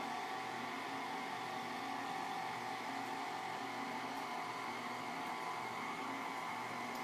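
Electric mixer on low beating vanilla cake batter, a steady, even motor hum with a faint whine, running continuously without pauses and no talking.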